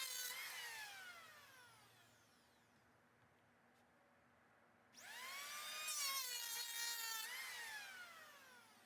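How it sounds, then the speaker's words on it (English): A handheld electric planer shaves wood while simple wooden chairs are being made, its high whine rising and falling through a pass, dropping to a quiet hum, then surging loudly again for a second pass. "Here I'm just using a handheld planer that I have."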